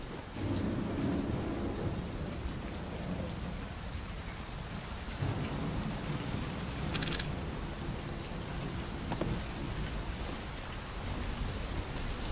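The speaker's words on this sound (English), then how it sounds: "The levels where rain's dropping down everywhere around you." Steady heavy rain falls continuously in the video game Splinter Cell, with a low rumble of thunder rolling underneath. The downpour stays even and fairly close throughout, with one brief crackling burst partway through.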